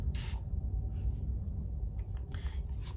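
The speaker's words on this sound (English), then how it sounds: "This is just a continuous mist spray bottle, which I love" A continuous mist spray bottle sprays onto curly hair during restyling, giving two short, close hissing bursts separated by a quieter stretch, with no talking.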